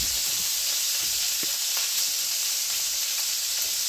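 Salmon sizzles in a frying pan with a loud, constant hiss and occasional small pops and crackles, close up throughout, with no talking.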